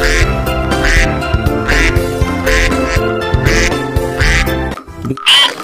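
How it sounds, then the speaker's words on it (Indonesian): Loud, repeated toy duck quacking in a steady rhythm, close up, over a busy toy-like background, ending with a brief pause and one last quack. "Dan ini ada induk bebek yang warna hijau"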